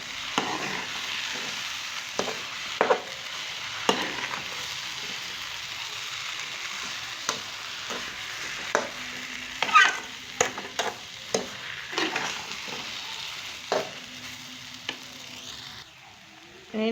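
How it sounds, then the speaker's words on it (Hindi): A spoon scrapes and stirs sugar into semolina halwa in a pan, giving a soft continuous sizzle broken by a series of sharp clicks and knocks against the metal, close and fairly quiet. "चीनी को पूरा हमें मिक्स करना है।"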